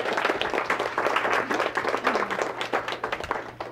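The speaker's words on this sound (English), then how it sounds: "Give him a round of applause" Applause from the audience at a real estate sales seminar: a dense, lively burst of many hands clapping that swells and then thins out toward the end, with no talking.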